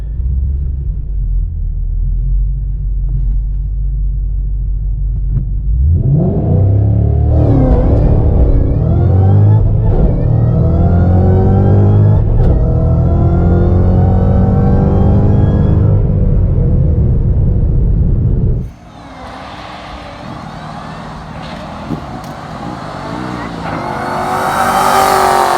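A Ford Shelby GT500 launches hard down a drag strip, engine roaring up loudly with brief wheelspin as the revs climb through gears, then the sound drops away into lighter road and wind noise near the end.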